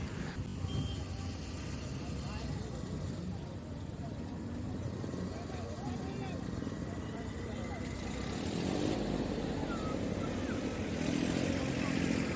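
Steady stream of vehicles passing on a road near a bridge, a continuous engine rumble with motorcycle-like buzzes rising toward the end, under someone talking nearby.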